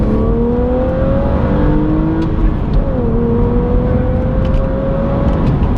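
A 3-litre BMW Z4 accelerates hard, its engine revving up through the gears with a steady, loud drone and clear pitch climbs and drops at each shift, heard from inside the car.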